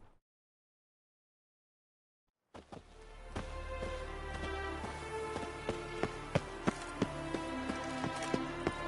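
Horse hooves gallop in The Witcher 3 video game, a steady loud run of clopping beats over a rumbling game soundtrack with sharp accents, starting after a couple of seconds of silence.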